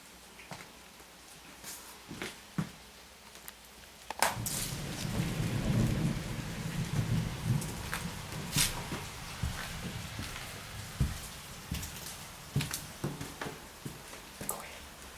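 A thunderstorm outside an abandoned house brings rolling thunder that swells into a long, loud rumble, over steady rain and scattered sharp drips and knocks.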